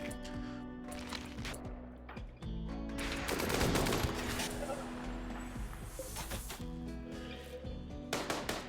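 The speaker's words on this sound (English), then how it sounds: "We're shooting through smoke here, and now Dragobot's on fire and dead in 20 hours" Gunfire in the video game RimWorld, with dense layered shots and explosions blending into a loud, continuous battle din while a voice talks over it.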